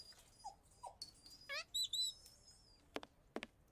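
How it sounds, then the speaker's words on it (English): A dog barks a few times in the video game Sherlock Holmes versus Jack the Ripper, two short mid-pitched yelps early on, set among chirping birds in a quiet shop scene, followed by sharp clicks. "I hear a dog, but I don't see a dog."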